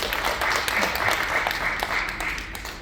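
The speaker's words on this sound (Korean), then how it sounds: "우리 6분의 소상공인 사장님께 다시 한번 큰 박수 부탁드리겠습니다" Audience applause for six small business owners at a Korean digital transformation event, a dense, even burst of clapping from a large room that holds steady and then tapers off slightly at the end.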